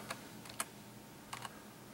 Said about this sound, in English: I'll just start typing